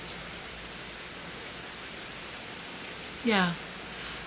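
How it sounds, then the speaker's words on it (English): Steady rain pours in through open windows as a continuous wide hiss that fills the whole scene, with a single brief voice speaking near the end over the downpour. "I hope you can enjoy some rain."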